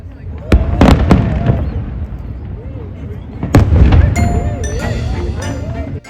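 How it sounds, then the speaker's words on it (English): Fourth of July fireworks display in the United States: several loud booming bursts and crackling pops, spaced irregularly, with whistling shells between them and voices in the background. "Firework shows are held in many states"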